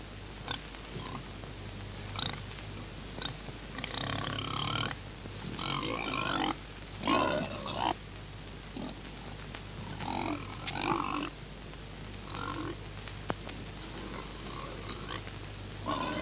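Several rough, snorting grunts come in bursts over a steady low hum, with short pauses between them, heard at a moderate distance.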